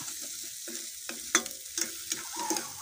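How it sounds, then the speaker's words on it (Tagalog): Dried fish (tuyo) frying in oil, a steady close crackle and sizzle with a few sharper pops and light stirring clinks, with no voices over it. "Luluto tayo ng konting tuyo."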